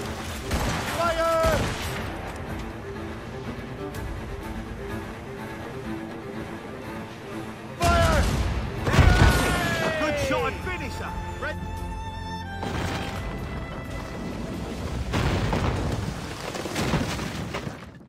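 Ship cannon volleys booming in the Assassin's Creed Rogue naval battle, heavy blasts and rumbling under shouted commands and crew voices, with wind and sea noise between salvos.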